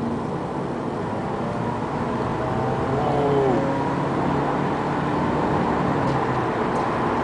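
A 2015 Toyota Corolla Altis with a CVT accelerates, heard from inside as a steady hum of engine and road noise with a faint rising whine, constant in level throughout.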